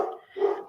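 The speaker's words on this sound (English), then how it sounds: "Did you hear that, Lisa? The dogs" Dogs barking at a moderate distance, two short bursts with a brief gap between them, heard during a live online psychic reading session.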